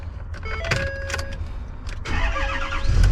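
A pickup truck with a sunroof, 130,000 miles on it, is started with a key: a few clicks and a short whirring crank, then the engine catches and rises into a close, steady idle.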